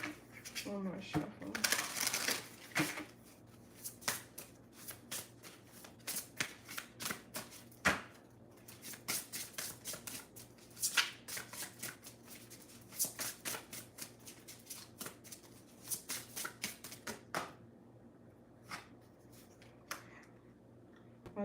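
Soft, papery shuffling of tarot cards in repeated riffles and slides, close and quiet, with short pauses between bursts.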